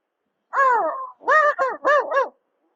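A man vocally imitates a puppy growling, making four quick throaty, whiny voiced bursts, the first longer and the rest clipped, close and alone.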